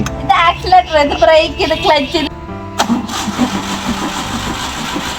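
A vehicle engine catches and starts after a person speaks, then settles into a steady idle that carries on to the end.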